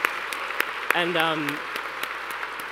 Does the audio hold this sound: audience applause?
yes